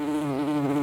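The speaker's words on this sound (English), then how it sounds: "The door's open and a fat bumblebee's just rolled on in." A large bumblebee that has flown in through an open van door buzzes right up against the microphone, a loud, close, continuous drone that wavers slightly in pitch.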